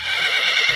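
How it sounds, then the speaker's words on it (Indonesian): A horse whinnies in a short, loud, bright burst that fills the whole moment, alone with no voices over it. "Seekor kuda."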